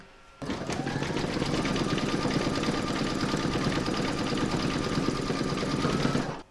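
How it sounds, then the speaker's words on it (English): An embroidery machine runs steadily through an in-the-hoop stitching round for a pooch pouch bag dispenser, a close, continuous rapid mechanical whir and needle chatter that starts abruptly and holds constant throughout. "you're now going to pop that into your machine and stitch round number 9"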